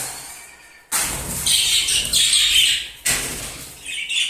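Male budgerigars in breeding cages give a burst of wing flapping and rattling, then chirps and chattering that cut off abruptly, with the flapping starting again near the end.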